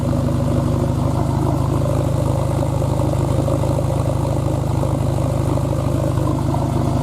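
A steady, low engine rumble from a Toyota MR2 Spyder with a custom stainless exhaust idles throughout with a constant throbbing burble, loud and close, with no speech.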